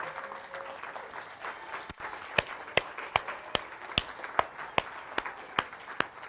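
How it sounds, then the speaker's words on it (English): Applause from a church congregation at a Sunday service, a dense steady wash of clapping with sharper individual claps standing out, moderately loud and continuous with no talking. "let's give him a huge, huge round of applause"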